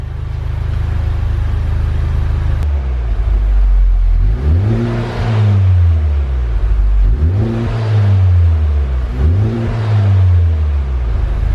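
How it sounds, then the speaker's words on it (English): Honda Civic Type R FK8 turbocharged engine revs up three times in steady succession, each rise and fall smooth and fairly subdued over a constant low idle hum. "For a turbocharged car, man, is this thing quiet."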